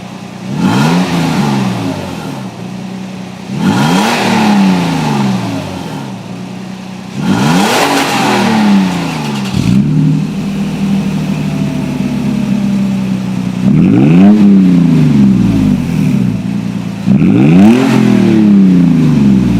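A Toyota Tacoma 4.0 V6 fitted with an aftermarket exhaust is revved repeatedly, about six loud sweeping throttle blips that rise and fall back to a steady idle between them, heard up close and alone.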